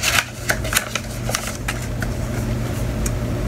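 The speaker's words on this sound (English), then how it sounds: "I'm gonna open up this card." A paper greeting card being opened by hand, with a few sharp crinkling rustles close by over a steady low hum in the room.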